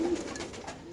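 A healthy white female pigeon in a numbered cage at a pigeon market coos briefly. One low, rolling call sounds close, with other birds faintly behind it.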